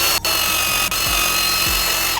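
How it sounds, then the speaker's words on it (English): A Milwaukee power drill fitted with an abrasive attachment grinds rust off a wheel disc and drum, a steady loud whine with two brief dips in pitch as the tool loads up under pressure. "these Milwaukee drills have quite a bit of torque, so it's an effort to try and keep them aimed at the disc"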